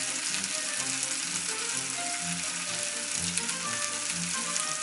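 Skin-side chicken thigh sizzling in a frying pan over lowered heat, a steady dense crackle with a faint low clatter of the pan, close and continuous throughout with no talking.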